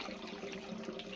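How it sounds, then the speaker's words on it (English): Spring water pouring into a strawberry moonshine mash, a steady, fairly faint splashing and trickling wash without a break. "So I add regular water to this, spring water to this, to bring the temperature down"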